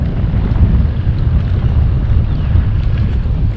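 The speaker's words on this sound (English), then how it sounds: "That old wind's coming and going." Wind gusts across an open lake while fishing from a boat, a loud, steady rushing roar buffeting the microphone with no voices.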